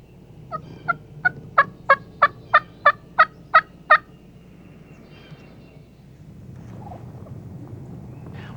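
A wild turkey gobbler gobbles in the spring woods: one loud, rapid rattling burst of about ten evenly spaced pulses, fairly near, then soft rustling and faint background noise.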